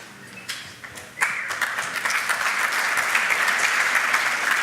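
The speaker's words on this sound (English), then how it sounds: "It comes with applause." Applause from a conference audience at a developer event, starting with a few scattered claps and swelling after about a second into steady, full clapping that continues to the end.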